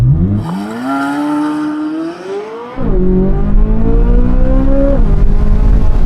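A Corvette Z06 naturally aspirated V8, traction control off, revs against the brake and then launches hard. The engine note climbs through rising revs, dips at a gearshift and pulls loud and close up to another shift.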